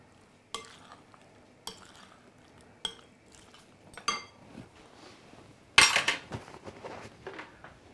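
Potato salad is tossed with crispy bacon in a pan, bringing a handful of sharp metallic clanks and scrapes at uneven intervals, then a louder sizzling clatter midway, all up close over a faint frying hiss.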